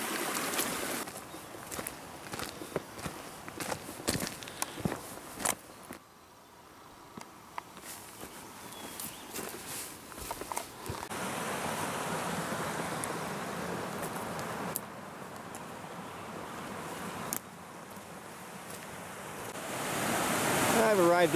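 Drake Creek water flows and rushes steadily nearby, a broad continuous wash rising louder toward the end, with no talk over it.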